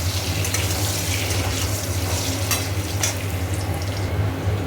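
Potatoes frying in a pan with water added and stirred, a dense, steady sizzle with scattered scraping clicks of the spoon, close and continuous without talk.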